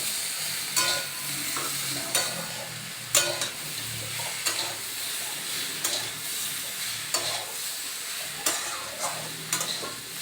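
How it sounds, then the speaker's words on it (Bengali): Prawns and pumpkin with turmeric stirred in a frying pan, a steady sizzle broken by repeated scraping strokes of the spoon every second or so, close and alone. "খুব পরিমাণ মতো হলুদ গুঁড়ো দিয়ে নেড়ে নিতে হবে"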